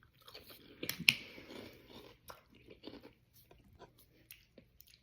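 Sugar Cookie Toast Crunch cereal being chewed close to the mic, crisp crunching bites bunched early then softer irregular chews and faint squishes, alone in a quiet room.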